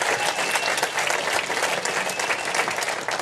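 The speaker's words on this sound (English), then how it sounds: "People clapping their hands into bloody nubs over here" A crowd of people claps hard and continuously, a dense, even wash of applause that holds steady at full strength throughout.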